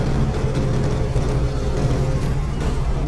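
A car engine idles steadily beside a fuel dispenser at a petrol pump, a low continuous rumble with a faint whir, close and constant throughout.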